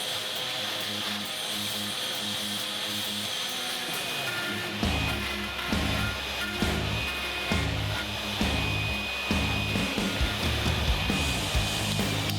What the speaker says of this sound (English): Now I can finish the job with the router.